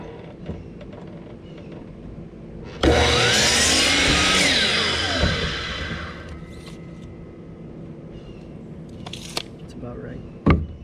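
A saw cuts a 2x4 board to 32 inches in one loud, close burst lasting about three seconds, with softer workshop noise and people talking before and after.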